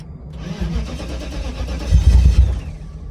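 A car engine cranks on its starter, trying to start: a steady, loud, close grinding churn that swells near the end, with no clear catch to a running idle.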